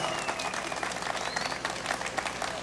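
A crowd at a plaza inauguration gives steady, dense applause, outdoors and fairly close, with a faint voice mixed into the clapping throughout.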